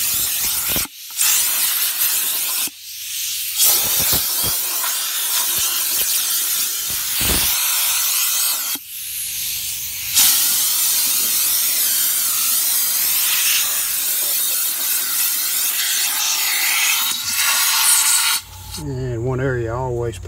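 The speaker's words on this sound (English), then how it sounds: "hook the air hose up and blow the rest of the grass off" A compressed-air blow gun with an extension blasts grass off a John Deere Z930m zero-turn mower in long, loud, broadband hissing bursts with brief pauses between them, ending in a short snippet of a voice.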